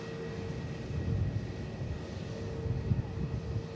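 Aircraft engines rumble at an airport, a steady broad roar with a faint sustained whine, moderately distant and rising slightly toward the end.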